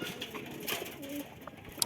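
Pigeons, a wild female and a male, on a village house rooftop give a few soft, low coos, with a brief louder rustle near the end.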